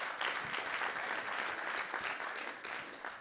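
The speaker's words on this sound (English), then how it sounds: "if we could get some applause for their work." Steady applause from a conference audience at a Fortune CEO Initiative event, a continuous even wash of clapping heard at a modest distance and holding for about three seconds.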